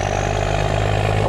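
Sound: barge's Cummins diesel engine running

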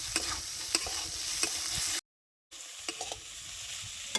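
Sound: potatoes and yardlong beans frying in a pan

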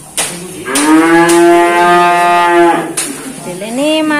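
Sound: cattle mooing at a cow dealer

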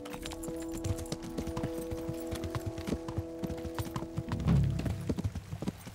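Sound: horse hooves clip-clop while riding, from video game Kingdom Come: Deliverance

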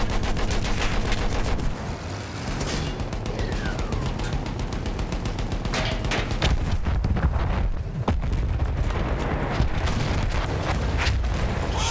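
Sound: explosion in video game Battlefield 1

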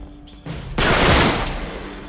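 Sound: sawed-off shotgun fire in Uncharted 3 video game

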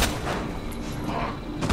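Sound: gunshots at a zombie in video game Resident Evil 2

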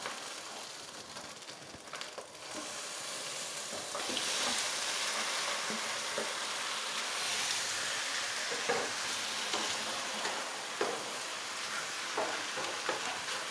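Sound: catfish stir-fried with curry paste in pan, sizzling

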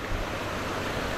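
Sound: floodwater current rushing in flooded area

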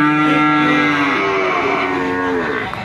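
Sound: calf mooing

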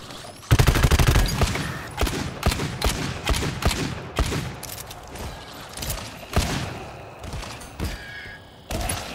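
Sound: automatic gunfire in GTFO video game

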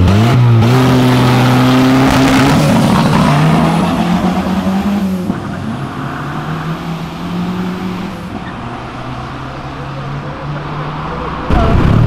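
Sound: Fiat Palio car engine revving leaving an event

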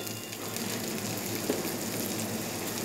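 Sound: chopped onion frying in a pan

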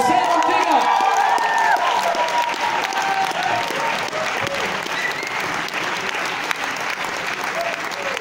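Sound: audience applause and cheering

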